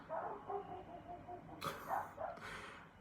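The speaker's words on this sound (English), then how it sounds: "this dog is very excited" An excited dog barks in a few sharp, loud yips near the end, preceded by softer whining tones, close by in an indoor room.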